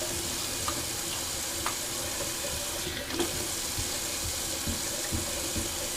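Cold water runs steadily from a tap and splashes onto a face over a sink in a bathroom. The rushing flow is close and constant, with no talking.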